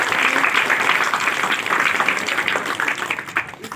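Steady applause from an audience at a foundation day celebration, dense and fairly loud, continuing without pause for a few seconds with no voices over it.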